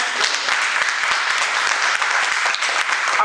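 Sustained audience applause for the performer Shades, a dense, steady wash of many hands clapping at an even level throughout, with no voices over it.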